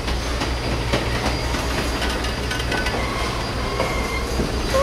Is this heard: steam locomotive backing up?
yes